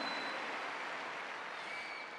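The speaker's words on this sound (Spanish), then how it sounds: "¡Un aplauso para ellos!" Faint, distant applause from an audience at a Hispanic cultural celebration marking twenty years of Luz de las Naciones, a soft, steady wash of clapping with no talk over it.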